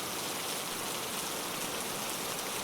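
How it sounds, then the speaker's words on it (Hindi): Heavy rain falls in a Hindi village cartoon as a dense, even, loud hiss that continues without a break, with no voices over it. "कहाँ जा रहे हो इतनी तेज बारिश में?"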